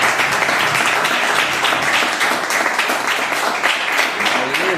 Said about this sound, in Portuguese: Uma salva de palmas que exalta o Senhor.